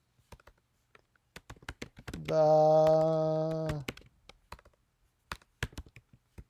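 Typing on a computer keyboard while editing rolling credits in Premiere Pro: scattered, close key clicks in irregular bursts, with a brief sustained voiced tone in the middle and a few spoken words.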